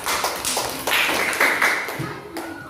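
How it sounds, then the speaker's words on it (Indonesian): Applause from a classroom audience for a student presentation group, a steady patter of many hands clapping at close range, fairly loud and continuous for a few seconds with no talk. "Kita berikan aplaus untuk kelompok 4."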